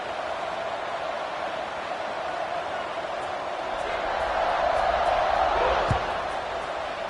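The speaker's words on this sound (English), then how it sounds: "this crowd is buzzing after that last score" Constant roaring murmur of a stadium crowd in a college football video game, Texas versus USC, swelling slightly louder midway with a brief thump, heard throughout at steady volume.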